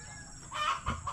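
A nearby chicken gives a short burst of loud clucks, two or three quick calls over faint background noise.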